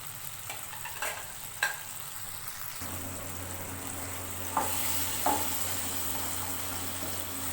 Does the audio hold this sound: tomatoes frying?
yes